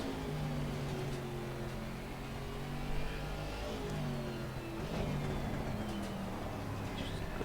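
A racing car on the wet Zandvoort circuit holds a steady, droning engine note that rises and falls slightly as it revs, loud and close throughout, with no voices.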